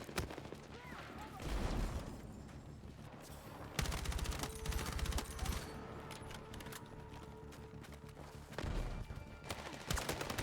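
An M4 assault rifle fires in the video game Battlefield 6, with dense rapid bursts of gunfire and mechanical clatter amid busy battle ambience.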